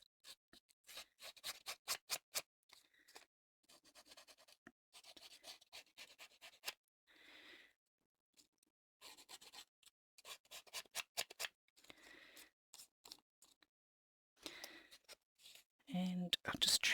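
Scissors scraping and snipping along the edge of a paper watercolour swatch to distress it, a series of close, quiet scratchy strokes in bursts with short pauses between them.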